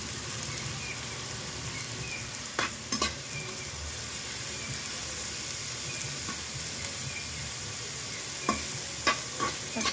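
Fried rice with mixed vegetables crackles steadily in a pan. Two clusters of quick spatula scrapes and knocks cut through the constant sizzle as the rice is stirred.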